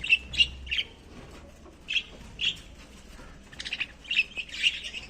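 Pet parrots kept at a home poultry setup give repeated sharp chirps and squawks in short bursts, moderately near, with brief pauses between calls and no talking.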